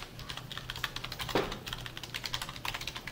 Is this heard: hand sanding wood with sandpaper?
no